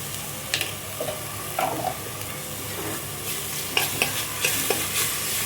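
Curry leaves, coriander and ginger garlic paste fry in a hot pan, a steady sizzle broken by several distinct scrapes and stirring knocks of a utensil, fairly close, with no voices.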